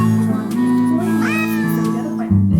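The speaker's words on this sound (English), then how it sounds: "Otherwise, he'll just keep meowing." A cat in the Nancy Drew mystery game lets out a long, loud meow, a drawn-out wavering cry close up, then starts into a second call near the end, with no talk over it.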